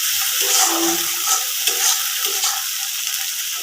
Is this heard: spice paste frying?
yes